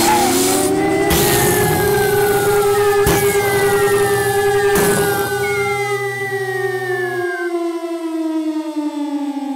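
Air-raid effect assembled in Audacity from vocally imitated engine and bomb sounds: loud, wailing siren-like tones glide and overlap above a rough rumble, then thin out into sustained ringing tones near the end.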